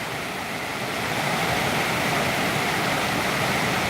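Waterfall fed by runoff from a lake pours in a loud, continuous rushing roar, a broad steady hiss of falling water close by with no voices.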